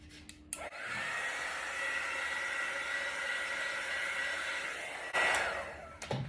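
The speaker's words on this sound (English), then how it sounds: "I'll just hit that with the heat embossing tool just to bring up any more" A heat embossing tool blows over wet acrylic paint on a ring pour, a steady close whooshing drone that switches on after a few clicks and cuts off near the end.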